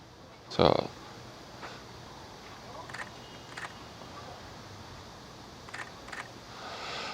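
A camera shutter fires in manual mode at 1/125 second, giving a sharp, close click near the start, followed by a few fainter mechanical clicks in a quiet room.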